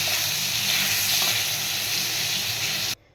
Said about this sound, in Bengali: সামান্য একটু লবণ আর হলুদ দিয়ে বেগুনটাকেও ভেজে নিচ্ছি।